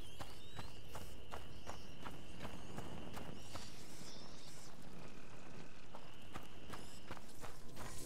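In the video game A Plague Tale: Innocence, a horse's hooves clip-clop in a fairly regular rhythm of sharp knocks over a dense, noisy night ambience, faint and steady throughout.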